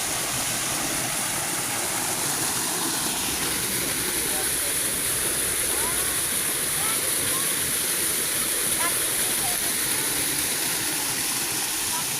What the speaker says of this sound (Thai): นี่มีน้ำตกนี่ไง